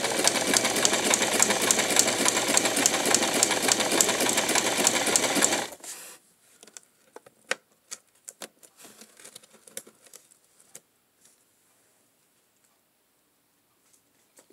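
A sewing machine stitches fabric in a rapid, even patter for about six seconds, close and steady, then stops, leaving scattered light clicks and handling taps.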